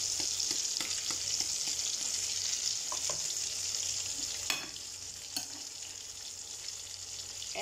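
Eggplant omelette (tortang talong) fries in a pan with a steady close sizzle, punctuated by a few stirring or scraping clinks, with no talk.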